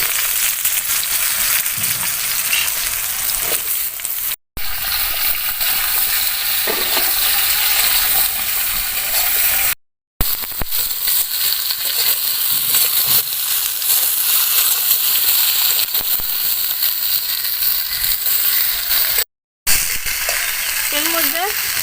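Bay leaf and vegetables hitting hot oil in a frying pan, a loud continuous sizzle and crackle with stirring scrapes, close up, steady for about twenty seconds apart from brief cuts, with a voice now and then.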